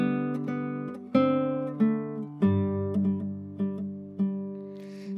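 Classical guitar playing measures 15 to 16 of Fernando Sor's Andante, a clear melody note leading each plucked chord over sustained texture, six or seven evenly paced attacks ringing close and alone.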